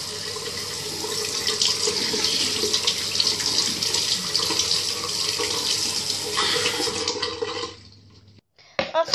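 A bathroom tap runs steadily while someone rinses their face, a continuous splashing water flow that cuts off near the end, followed by a few brief clatters.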